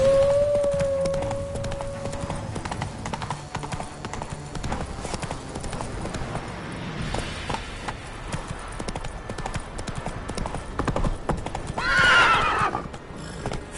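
Roach, a horse in The Witcher 3, gallops with a steady clip-clop of hooves, and a clear neigh breaks out near the end over a faint game ambience.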